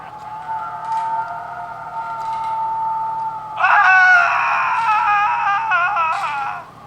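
Screaming from a Halloween sound-effects mixtape, a long sustained wail that suddenly jumps to a higher, shriller, quavering scream, loud and close, then cuts off.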